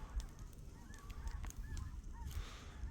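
Geese honk repeatedly in short, scattered calls over a low background rumble as they take off on a cold morning, several birds calling at moderate distance.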